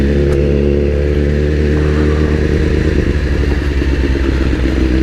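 A BMW S1000RR sportbike at full throttle roars loud and close, its engine note a dense, continuous howl with steady harmonics and rattling texture, no voices present.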